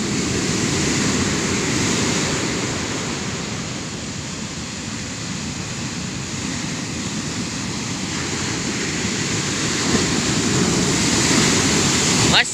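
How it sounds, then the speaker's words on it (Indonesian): Big ocean waves crash continuously onto the shore at Buton, a loud, steady broadband roar with wind buffeting the microphone and no clear breaks between surges. "Ombaknya gede banget ya, Pak ya?"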